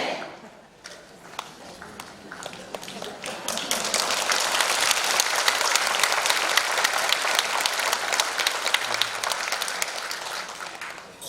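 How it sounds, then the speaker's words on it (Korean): Applause from a congregation during a church thanksgiving service in Korea, starting with scattered claps and swelling into full, dense clapping that holds steady to the end. "권면 시간인데 박수 나오는 거"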